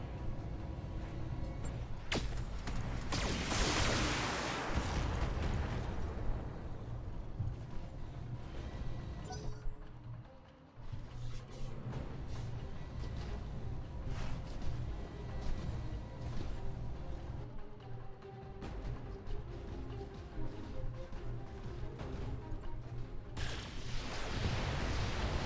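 Salvo of LRM missiles launching from a mech in the Battletech game, a dense roaring whoosh with repeated bursts and rumbling impacts building over a sustained loud stretch.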